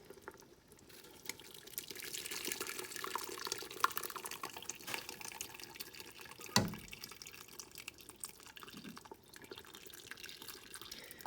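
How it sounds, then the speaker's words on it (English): Liquid pozole broth pours through a kitchen strainer into a pot of soup, a steady splashing trickle and drip that runs close and continuous, with one sharp clink partway through. "we're going to pour it into the soup through the strainer"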